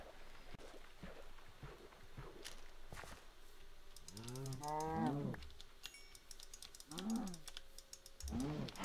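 Cows in the Minecraft Technolution modpack moo several times, sliding low calls spaced a few seconds apart, mixed with clicking keyboard keys and game mechanism noise at a fairly quiet level.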